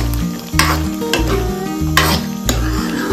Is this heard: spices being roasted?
yes